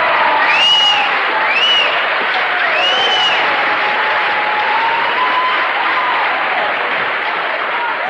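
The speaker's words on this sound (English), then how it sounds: "it was a loud, rowdy audience" A loud, rowdy audience applauding Charles Bukowski at a reading, a dense steady roar of clapping and crowd noise with a few shouts and whistles rising above it.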